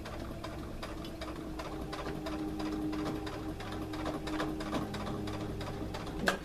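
A sewing machine runs a straight stitch along a leggings waistband, its rapid even needle clatter steady and close for several seconds with no talking.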